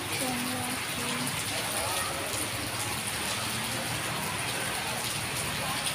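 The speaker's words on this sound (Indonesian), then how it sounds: "sudah hujan terus, hujan deras" Heavy rain pours steadily at night in a dense, even hiss, with voices talking faintly underneath from people sheltering at a roadside stall.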